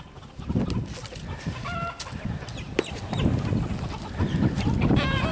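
Chickens on an off-grid homestead cluck and squawk in a busy, overlapping chorus nearby, with brief sharper calls breaking through.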